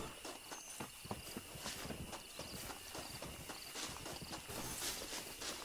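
Steady clip-clop of horse hooves at a walking pace in the video game Red Dead Redemption, with even rhythmic thuds over a constant hissing background of insects or wind.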